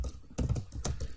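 Quick keystrokes on a computer keyboard while code is typed, in two or three short bursts of close, crisp clicks over about a second.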